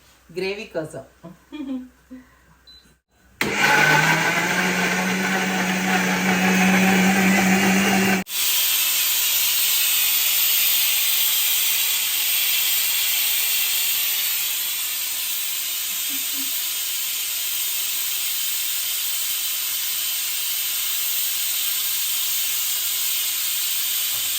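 A pressure cooker cooking bagara rice with basmati and ghee lets out one long, loud, steady steam whistle with a piercing hiss that lasts about twenty seconds, after a few seconds of talking at the start.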